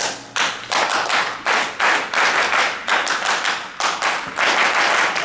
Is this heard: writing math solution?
no